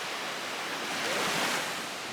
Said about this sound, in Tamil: பிள்ளைங்க தண்ணி பயங்கரமாக வந்துட்டுருக்கு, வேவ் நிறையா இருக்குது